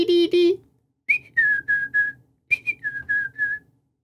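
Black-capped chickadee song given as a whistled imitation: two sung phrases of a rising note followed by three or four even, clear whistled 'dee' notes, close and fairly loud with no other sounds.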